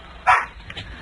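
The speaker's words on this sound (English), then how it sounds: "That's my dog." A pet dog lets out a single sharp, loud bark close by during a radio call-in, followed by quieter background noise.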